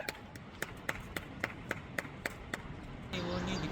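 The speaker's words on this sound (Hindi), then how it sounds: "ताली बजाओ भाई" A small group of people clapping outdoors after a drone is freed from a tree, about a dozen sharp, evenly spaced claps over a few seconds before a louder burst of voices and noise takes over.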